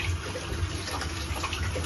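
Fresh water from an inlet tap runs steadily into a tank under a seat, a continuous close hiss of flowing and splashing water with no voices.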